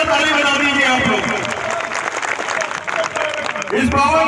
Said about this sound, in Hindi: एक बार जोरदार ताली बजा दीजिए आप लोग।